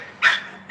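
A large dog of about 200 pounds gives two sharp, loud barks close by, with a short pause between them and no talking.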